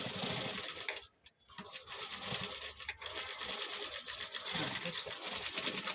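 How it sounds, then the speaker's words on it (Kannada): Sewing machine stitching a velvet blouse, a fast steady mechanical whirring run that pauses briefly before resuming, close and loud, with someone talking over it. "ನೋಡಿ ಈ ರೀತಿ ಹಿಂಗೆ ನೀಟಾಗಿ ಸ್ಟಿಚ್ ಮಾಡ್ಕೊಂಬನ್ನಿ"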